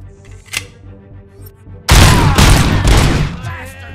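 Gunfire in the video game RoboCop: Rogue City on PS5: after a quiet stretch with one brief sharp shot, a loud, dense burst of rapid shots and impacts erupts and keeps going to the end.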